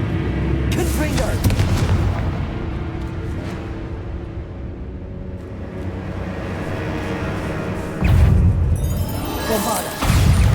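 Confringo fire-blast spell from the Hogwarts Legacy video game, with heavy booming blasts and rumbling impacts over game music, hitting hard again near the end.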